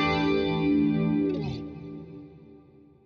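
Electric guitar chords from a Kemper Profiler ring out through a wide, spacious, cathedral-like reverb, swelling briefly and then fading into a long echoing tail.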